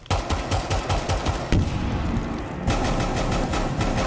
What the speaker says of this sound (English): This shotgun is fucking nuts, bro.